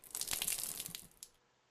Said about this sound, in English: When I open the valve, I will drain the water until all of it has been removed.